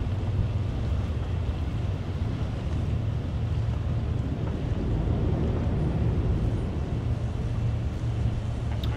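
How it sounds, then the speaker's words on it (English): A superyacht's bow thruster runs during a tricky docking in wind, giving off a steady, loud low rumble mixed with wind buffeting and water noise, with no talk. "That noise you can hear there, that's the bow thrust, and just correcting the bow slightly"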